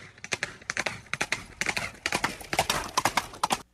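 Horse galloping sound effect with rapid, dense hoofbeats clattering in quick rhythmic bursts, close and fairly loud, ending sharply.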